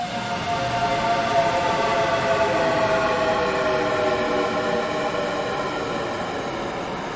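A dense, buzzing distorted tone sustains for several seconds, harsh and loud, with a gritty texture: a cinematic synthesized riser with automated distortion, heaviest at the beginning.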